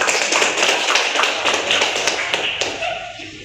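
A group of classmates claps for a group that has just finished presenting in class. The applause is dense, close and fairly loud, then thins out over a few seconds.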